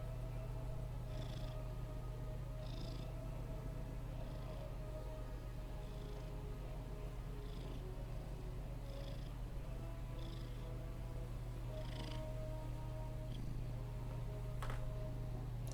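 A domestic cat purrs steadily and close, a soft continuous rumble with faint rhythmic breathy pulses every second or so, over a quiet room hum.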